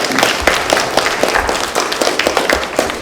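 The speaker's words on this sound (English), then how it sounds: "All right, let's give a round of applause." A room full of people gives a round of applause, a loud, steady patter of many clapping hands close by with a few louder individual claps standing out.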